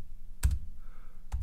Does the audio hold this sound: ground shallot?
no